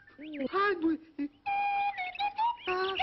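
Bright whistled tones from a Melody Pops whistling lollipop toy slide and wobble in short phrases alongside a sung or spoken voice, near and clear.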